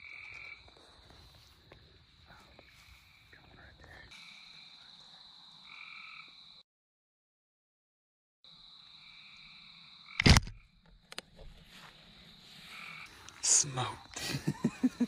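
Frogs croaking at night during a frog gigging hunt, a steady chorus of repeated calls with bursts of splashing and handling noise, a brief silent gap, then louder close thumps and movement near the end.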